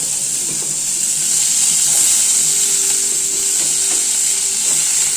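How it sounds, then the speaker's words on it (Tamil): Sliced onions and tomatoes frying in a pan, a steady bright sizzle with faint scraping stirs, no voices. "இதில் வந்து வெங்காயம், தக்காளி கட் பண்ணி வச்சு வெங்காயம், தக்காளி போட்டுக்கலாம்."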